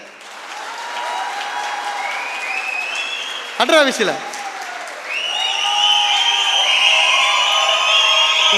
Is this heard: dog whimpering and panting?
no